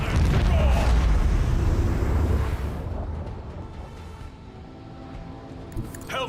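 A thunderous barrage of starship macro cannons in Warhammer 40000: Rogue Trader, deep explosive booms rolling together for a few seconds, then decaying into a long low rumble with a faint late pop.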